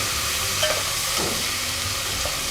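Garlic ginger paste sizzling in a pan with half-browned onions, a steady, fairly quiet frying hiss with faint stirring scrapes throughout.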